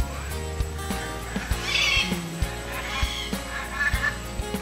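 Calls from yellow parrots at Jurong Bird Park, a few shrill bursts rising over a busy background of other bird and crowd noise, moderately loud and intermittent.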